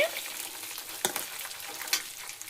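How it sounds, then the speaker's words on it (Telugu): Chicken leg pieces frying in a pan for biryani, a dense steady close sizzle with a couple of sharper spatter pops, no talking. "ఇదిగోండి, ఈ విధంగా ఫ్రై అయితే సరిపోతుంది."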